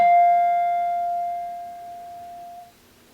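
A touched chime rings with one clear metallic tone that sustains and slowly decays over about two and a half seconds, alone and fairly close, before it falls quiet.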